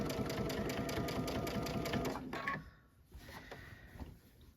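A Baby Lock Altair sewing machine stitches in the ditch on a quilt, a fast, even mechanical whir-and-tap that runs for about two seconds and then stops, leaving only faint rustling of fabric.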